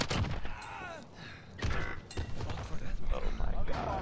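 Gunfire in the Warzone video game, with bursts of shots and thuds running through the clip under and between excited voices talking.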